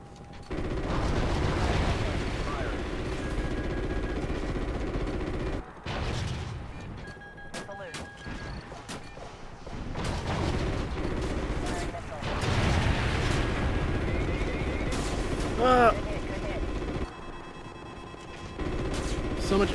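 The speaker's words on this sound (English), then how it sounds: "So much anti-aircraft." Dense anti-aircraft gunfire from the Call of Duty Ghosts campaign fills the clip with sustained bursts and booming blasts, briefly dropping out twice before resuming, with someone talking faintly underneath.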